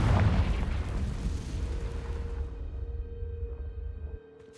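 A Confringo fire spell explodes in Hogwarts Legacy, a loud, broad booming blast that rolls on as a sustained rumbling roar for several seconds before cutting off abruptly.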